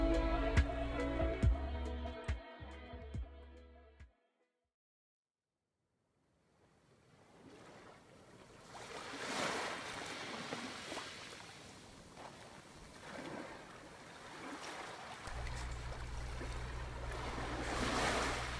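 Ocean surf on a beach in Bar Harbor, Maine on a summer afternoon, a soft rush of waves with wind buffeting the microphone, after a short stretch of music and then a silent gap.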